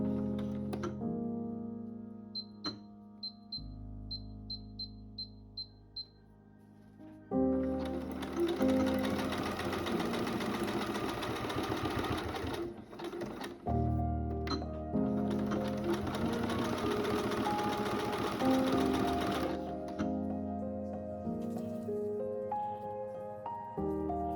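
A sewing machine sews bra boning channels, first in a short straight-stitch run, then in two long, loud, steady bursts of zigzag stitching separated by a brief pause.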